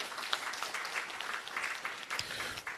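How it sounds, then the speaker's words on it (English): Congress audience of a football association clapping together, sustained scattered applause heard from a distance at a fairly faint level. "I think we need a bigger clap."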